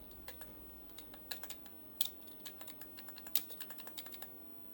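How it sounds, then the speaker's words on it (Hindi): Fingers tap out words on a computer keyboard during a typing tutor exercise, with irregular clicks and occasional sharper keystrokes, close and alone. "अब आपको क्या करना है, इसको इस तरह से आपको टाइप करना है।"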